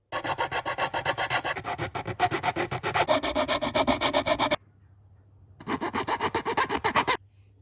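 Filing or rasping to square off window openings in a wooden part for a vintage 1960s Veron Caribbean Coaster model boat, with rapid rhythmic strokes close up and a brief pause before another burst.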